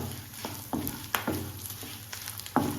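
Something is dry-roasted in a pan over low flame, a utensil stirring it constantly: repeated scraping strokes at an uneven pace over a quiet, steady background hum, with no talking.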